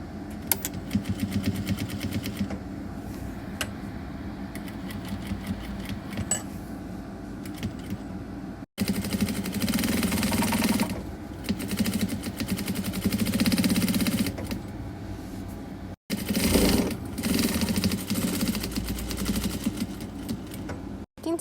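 A home sewing machine stitches pinned pieces of soft blanket fabric, running in steady motorized bursts with brief stops between passes, close and fairly loud with no talking.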